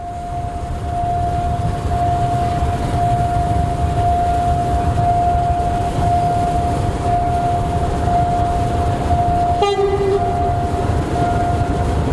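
An Alsthom horn on the GEA 4548 diesel locomotive gives one long, steady, loud tone over rumbling engine noise, then ends abruptly with a brief clunk and a lower note.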